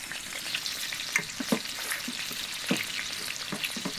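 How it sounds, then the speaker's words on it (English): Continuous crackling sizzle of food cooking over a campfire of wet wood, with irregular pops and snaps throughout, close by and without talk. "I can hear some pretty serious sizzling going on there"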